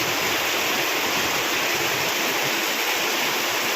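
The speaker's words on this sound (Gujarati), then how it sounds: "મારો અવાજ નહીં સંભળાતો એટલો આ પતરાનો અવાજ આવે છે." Heavy unseasonal summer rain drums loudly and steadily on metal roof sheets, a dense continuous roar with no pauses, close and filling the space.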